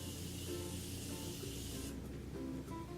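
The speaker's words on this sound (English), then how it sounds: "I'm gonna use the Morphe Continuous Setting Mist" Morphe Continuous Setting Mist sprays in one long fine hissing burst lasting close to two seconds, near and fairly quiet, followed by faint room sound and no talking.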